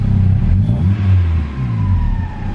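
A Honda S2000 engine with an open turbo and intake runs loudly and up close, its low throbbing drone shifting pitch slightly, with an airy turbo whoosh layered over it.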